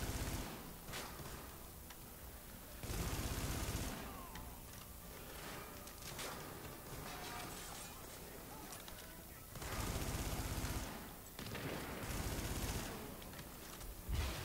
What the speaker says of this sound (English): Yeah, I've been shooting him for a bit.